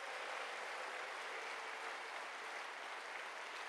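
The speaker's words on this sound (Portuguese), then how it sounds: "Vamos dar a Jesus mais um lindo aplauso" Sustained applause from a congregation at a Ghanaian revival church meeting, steady dense clapping filling the whole stretch at moderate loudness with no voices on top.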